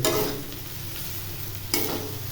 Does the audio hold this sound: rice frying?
yes